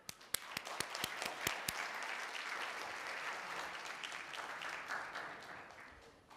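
An audience at a morning session on citizenship and immigration law applauds to welcome a speaker, with a few loud, close claps leading into sustained, even clapping from a full room that fades slightly at the end.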